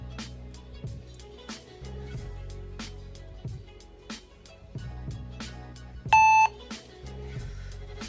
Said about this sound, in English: You'll hear a loud beep once Kali Linux has loaded